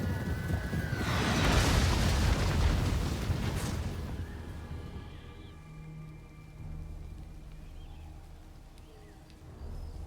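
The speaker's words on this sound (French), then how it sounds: "C'est très satisfaisant à voir quand c'est bien fait le tir d'artillerie." Artillery fire in the Total War: Warhammer battle game, a heavy rumbling blast that swells and rolls for several seconds, then fades into distant battlefield noise with faint tonal game sounds.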